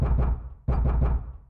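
Knocking on a door in the video game Zero Escape 999: two quick bursts of heavy, hollow thuds, three or four blows each, loud and close with a short pause between.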